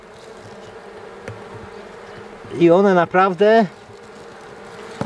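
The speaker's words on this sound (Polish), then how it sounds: "Dużo pszczół wyleciało." Honeybees buzz steadily around as they fly from the hive, with a louder wavering drone sweeping close past for about a second; a voice speaks briefly in Polish.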